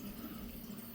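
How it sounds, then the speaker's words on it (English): Cold sink tap water running through a wort chiller set in a pot of hot homebrew wort, a quiet, steady trickle and flow of water with no talking. "You got the cold water from the sink running in, and it comes out."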